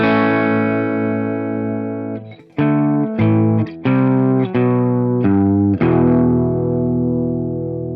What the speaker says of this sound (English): today I am playing a Gretsch G2655 with upgraded Filtertron style humbuckers